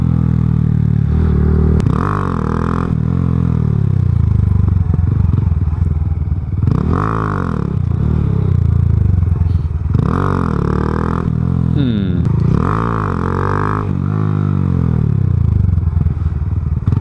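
A motorcycle revs hard during a wheelie attempt, in five or six loud, close throttle bursts that rise and fall in pitch, separated by brief dips toward idle.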